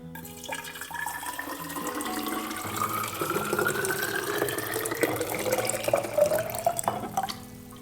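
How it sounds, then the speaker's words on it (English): Hot boiling water streams steadily into a copper bottle holding citric acid, the pitch of the filling sound rising gradually as it fills toward the neck, with no talking. "pour hot boiling water until the neck of the bottle"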